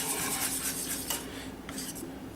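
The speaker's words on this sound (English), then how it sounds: "I'm going to keep stirring it until it's nice and smooth" A spoon scrapes and clinks steadily against a pan while cheese sauce for a keto tomato and cheese pie is stirred until smooth, close and continuous with soft rubbing strokes and no talking.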